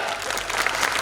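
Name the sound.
audience applause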